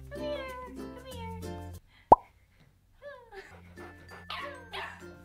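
A virtual dog appears in a HoloLens mixed-reality demo, giving short yips and whining calls. A sharp pop sounds partway through, and faint tonal sounds play around it at low, close volume.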